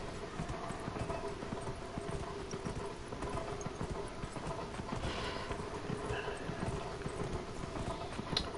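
Horse hooves clip-clopping steadily in Dragon Age Inquisition, a dense, continuous trot of hoofbeats running the whole time over a constant game backdrop, close and fairly loud.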